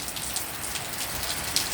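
Steady rainfall outdoors, a broad continuous patter of drops hitting surfaces, moderately close with a few sharper individual drips and no voices.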